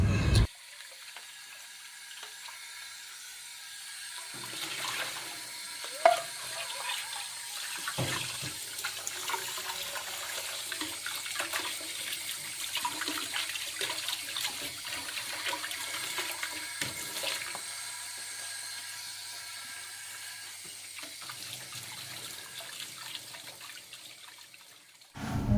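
Tap water runs into a sink while vegetables and fruit are washed, a continuous moderate splashing flow with occasional knocks and drips, starting after a short quiet stretch and stopping near the end.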